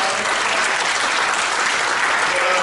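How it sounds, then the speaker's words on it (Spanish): A church congregation breaks into steady, loud applause during a Good Friday service, sustained clapping from many hands filling the room without pause. "Denle un aplauso al Señor, amado."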